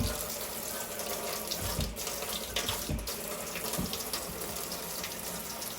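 Tap water runs steadily into a measuring cup, a close, continuous broadband rush with a few brief splashy shifts as the stream hits the water, and no talking.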